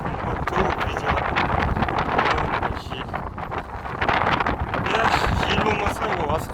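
Wind buffets the microphone outdoors in the Almagul microdistrict of Atyrau, a continuous loud roar and rumble throughout, with a voice partly buried underneath.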